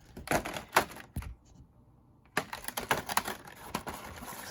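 Plastic packaging from a Bakugan Battle Planet deluxe card collection being pressed back together, a run of sharp crinkles and clicks in bursts, close up, with a brief quiet gap in the middle.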